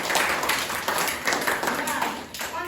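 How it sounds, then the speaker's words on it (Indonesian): A classroom group claps their hands in a short burst of applause during a lesson, the claps loud and close while someone talks over them. "Bagus, tepuk tangan."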